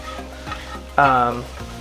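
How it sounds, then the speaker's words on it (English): Baby bella mushrooms, ginger and scallion sauté in a pan, a low sizzle overlaid by squeaky, tonal scraping and a louder stirring burst midway, close and brief. "So in this were the baby bellas, the ginger, and the onion, or scallion."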